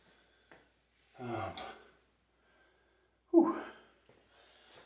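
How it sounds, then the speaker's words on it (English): Two heavy, ragged breaths, a long gasp, a pause, then a sharp exhale, close and labored, with near silence between them, after a set of overhead military presses. "you hear how hard I'm breathing"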